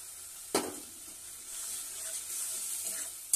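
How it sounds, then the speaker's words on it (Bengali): Fish curry with turmeric and chili powder sizzles gently in a pan while being stirred, a soft steady hiss broken by a sharp scrape of the spoon near the start and again at the end. "দিয়ে এটাকে আমি ভালো করে নাড়াবো।"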